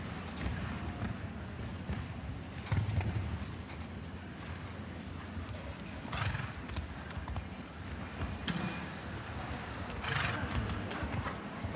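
Show jumping horse galloping over a 1.55 m fence at a CSI5* event, hooves thudding rhythmically at moderate distance beneath a steady arena crowd murmur and announcer talk.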